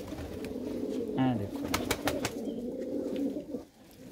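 Pigeons coo close by in a backyard loft, soft throaty calls repeating under brief talk from a man, with a few sharp clicks and knocks in between.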